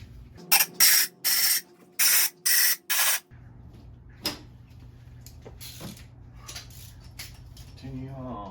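Compressor-powered air tool used while taking apart a VG30DE engine, firing six short, loud hissing bursts in quick succession, followed by quieter metallic clanks and a brief voice near the end.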